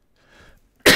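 A single sharp cough bursts out at the end, close and loud, after a faint breathy throat sound.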